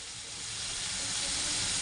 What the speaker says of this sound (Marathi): टमाट्याचं पेस्ट केलं मी, ते पण मी तेलामध्ये टाकते फ्राय करायला